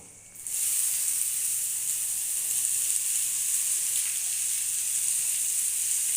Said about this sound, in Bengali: এবার আমি আস্তে আস্তে এই যে সবজিগুলো কেটে রেখেছি একসাথে আমি দিয়ে দেব